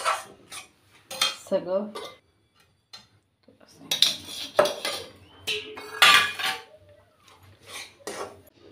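A spoon mixes semolina and powdered sugar in a bowl, giving bursts of clinking and scraping with short pauses between strokes. A voice speaks briefly.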